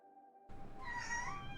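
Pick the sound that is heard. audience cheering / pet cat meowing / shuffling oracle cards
pet cat meowing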